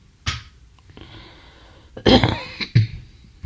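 A few separate coughs in quiet surroundings: one short burst, then a harsher pair of coughs near the end.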